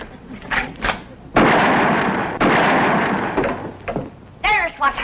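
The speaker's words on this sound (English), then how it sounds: "It took you 2 shots to get that wire." Two loud gunshots fired at a telephone wire in an old rural comedy scene, heavy booming blasts about a second apart, each with a long decaying rumble, with people talking before and after.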